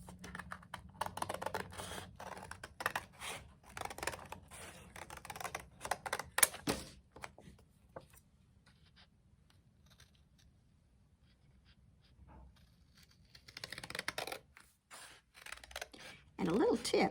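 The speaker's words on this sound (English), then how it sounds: "I'm going to cut a little bit inside of my tracing line" Scissors cut a paper skeleton-hand template close inside a traced line, giving a run of rapid, crisp snips and rustles, with a quieter stretch in the middle and more cutting toward the end.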